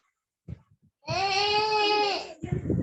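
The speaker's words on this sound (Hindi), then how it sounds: "बच्चा रो रहा है" A baby cries loudly in a single sustained wail lasting about a second, preceded by a few short whimpers and followed by further fussing, heard close over a quiet room.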